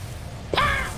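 A single shotgun blast in Halo Reach, one sharp burst that rings out and decays over a constant low background.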